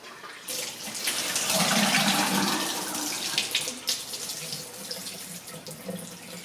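Water drains steadily from a manual off-grid laundry setup, a continuous close rushing and gurgling flow that starts abruptly and carries on at an even level.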